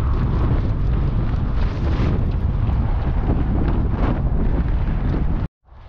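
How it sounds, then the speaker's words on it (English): Strong, relentless wind buffets the microphone during an outdoor run with dogs, a loud continuous roaring rumble that drops away abruptly near the end. "Margo and I have said many times, we would rather have it 10 degrees Celsius colder if we didn't get that relentless wind"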